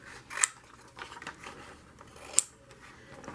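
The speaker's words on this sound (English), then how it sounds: "I'm going to cut out the word wildlife." Scissors snip through paper to cut out a word, two crisp close snips with soft rustling of the sheet between them.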